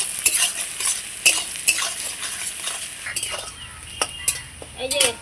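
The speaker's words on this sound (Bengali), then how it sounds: "পেঁয়াজটাকে খুব সুন্দর লাল লাল করে ভেজে নেব।" Chopped onions frying in a pan for a catfish curry, with soft sizzling under frequent scraping and clinking of a utensil against the pan.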